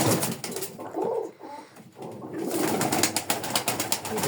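Pigeons cooing close by in soft low repeated calls, with rustling and some flapping in the background.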